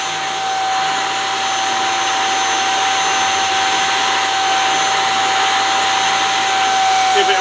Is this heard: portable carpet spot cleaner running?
yes